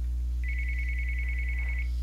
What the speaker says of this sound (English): the phone just starts ringing